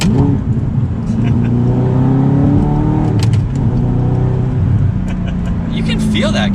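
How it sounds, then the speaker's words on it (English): A manual Audi R8 engine revs through a series of downshifts, the tone rising and falling in loud, close blips while the car drives, with people talking over it. "So let's just do some downshifts here and see."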